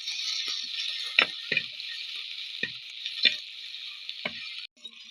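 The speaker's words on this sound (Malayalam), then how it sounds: "ഇത് വഴറ്റിയെടുക്കാം" Garlic, ginger and green chili sautéing in a pan: a steady bright sizzle with several quick stirring scrapes and taps spread through, close and fairly quiet, with no talk.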